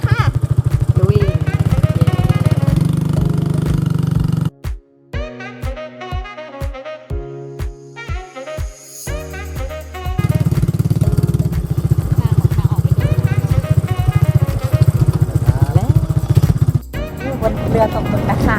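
A squid fishing boat engine near Koh Ngam, Trat, chugs and idles with loud rhythmic thumping that cuts out briefly and returns, while someone talks over it.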